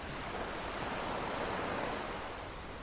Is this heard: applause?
no